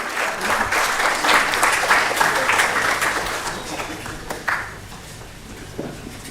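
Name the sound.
audience applause welcoming a speaker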